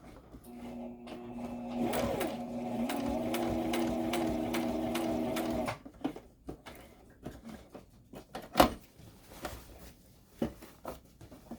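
A sewing machine stitches a tote bag, running steadily for a few seconds before stopping, followed by scattered light handling clicks and taps at close range.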